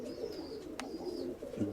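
Pigeons coo in a soft, low, repeated murmur, close but quiet, with a faint higher chirp and a brief sharp noise partway through.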